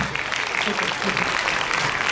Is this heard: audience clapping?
yes